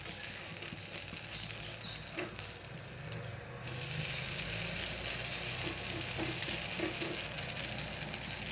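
Pappu dosa frying in oil on a home pan, a steady broadband sizzle with faint scraping and ticking that grows louder midway and continues evenly close by.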